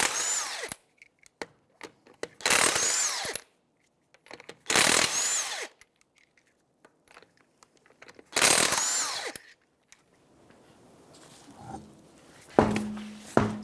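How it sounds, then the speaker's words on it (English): An impact wrench with a 21mm socket spins off the front wheel lug nuts of a 2009-2014 Nissan Maxima in four loud, separate bursts, each rattling about a second, with quieter clanks and handling noises between. "21mm socket, we're going to remove the lug nuts on the front tire."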